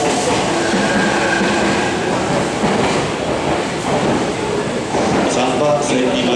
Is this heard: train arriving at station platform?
yes